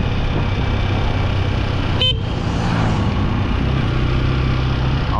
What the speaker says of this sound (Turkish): Biz korna çaldık ama.